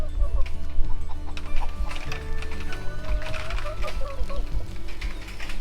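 Chickens cluck and chatter nearby in a garden as they are fed thinned seedlings, the soft calls overlapping steadily against low rustling.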